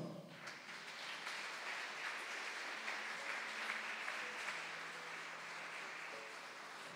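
A church congregation applauds through a Thursday service, a steady, fairly soft wash of many hands clapping together with no voices over it.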